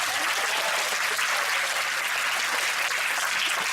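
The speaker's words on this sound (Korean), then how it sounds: "다시 한번 박수 한번 하겠습니다." Sustained applause from an audience after a church festival play, dense and even clapping from many hands at a constant level throughout, with no voices standing out.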